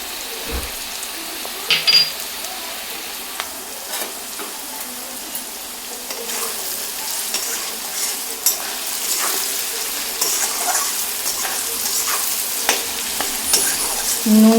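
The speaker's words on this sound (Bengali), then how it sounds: "নুন দিয়ে মোটামুটি আরও 1-2 মিনিট ভেজে নেব।" Frying and stirring in a pan as salt is added, with a steady sizzle and a few clinks of the spoon against the pan throughout, fairly close and without talk.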